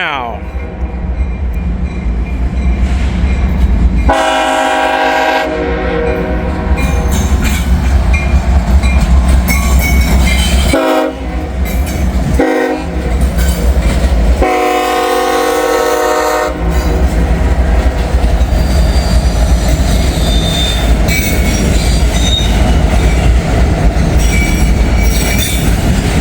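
A Norfolk Southern freight train crosses close by in Hamilton, heading toward Newcastle. Loud, sustained horn blasts ring out over a continuous rumble, with wheel squeal and clattering railcars carrying on throughout.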